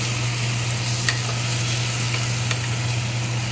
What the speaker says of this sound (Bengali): গুঁড়ো মশলা দিয়ে এটাকে বেশ করে কষে নিতে হবে।